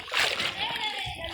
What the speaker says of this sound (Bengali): একটু ডুব দিয়ে দেখাও তো।